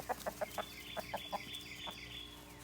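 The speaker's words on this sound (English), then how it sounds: "I'm already out here with the chickens" Several chickens cluck in short, quick bursts nearby, a handful of soft clucks over a quiet outdoor background.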